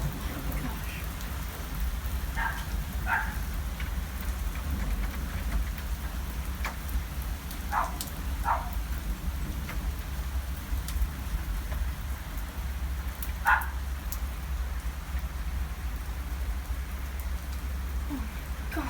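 Heavy rain with hail pours down in a steady, dense hiss, with a few scattered sharper impacts standing out from the constant downpour.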